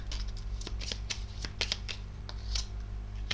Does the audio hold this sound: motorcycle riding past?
no